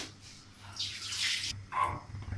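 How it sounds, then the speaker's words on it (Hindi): Tap water runs in short bursts while hands are washed in a home kitchen before cooking Sindhi biryani. The splashing is faint and uneven, with a dog barking softly in the background. "अब मैं हाथ धो लूँ"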